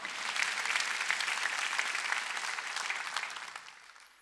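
A large church congregation claps steadily in dense, sustained applause that fades slightly toward the end, with no one speaking over it.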